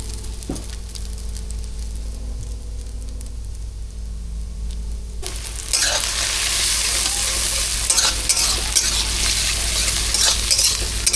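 Chow mein fries with vegetables on a rooftop, a quieter crackle that bursts into a loud, steady sizzle partway through, with constant stirring and scraping against the pan close up.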